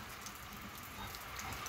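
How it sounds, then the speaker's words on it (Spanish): Steady soft rainfall on a morning, a continuous gentle hiss of drops on surfaces with no talking, even and unbroken throughout. "Ahí está la lluvia, amigos."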